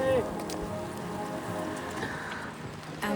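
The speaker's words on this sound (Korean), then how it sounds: "오늘 하필 비 오고 바람이 많이 불어서 그런 것 같아요" Rain patters on surfaces along the Great Ocean Road in steady, close wet hiss, with gusty wind and faint voices mixed in.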